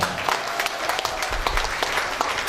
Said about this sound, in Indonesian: kita berikan tepuk tangan lah